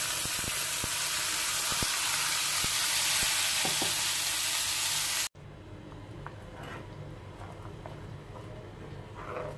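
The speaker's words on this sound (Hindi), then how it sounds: "अभी हम 4 या 5 टमाटर जो मिक्सी में हमने पीस कर रखे हुए हैं उनकी ग्रेवी डालेंगे इसमें।" Ground tomato gravy goes into a hot pan, starting as a loud steady sizzle with stirring clicks, then cutting to a quieter, softer bubbling fry.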